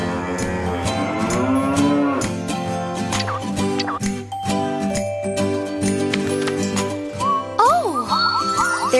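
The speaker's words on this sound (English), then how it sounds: "here are some cows, and when we press the button," A recorded cow moos from a button on an interactive children's farm-animal sound book, with several drawn-out lowing calls over a jingling cowbell and farmyard background, ending in a short melodic chime.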